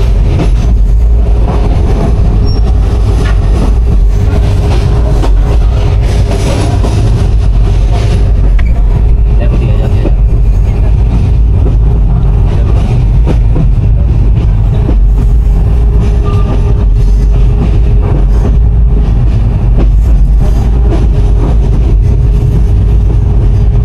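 A train runs along the Lawachara rail line through forest on the Chittagong to Sylhet route, a loud continuous rumble and clatter of wheels on track that holds steady throughout.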